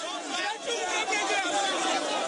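Crowd chatter outside as Ivorian gendarmes struggle to hold back a crowd, a dense continuous babble of many voices at moderate distance with no single voice standing out.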